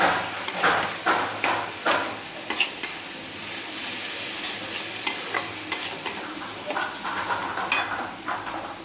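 Ginger-garlic masala paste with chilli powder being stirred and fried in a pan, a steady close sizzle broken by repeated sharp scrapes and knocks of a spoon against the pan, no talking.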